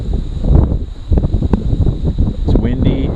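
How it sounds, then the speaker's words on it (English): Strong wind buffets the microphone in gusty low rumbles, loud and close, on Minnesota's North Shore, with a faint voice briefly mixed in. "Yeah, it is windy."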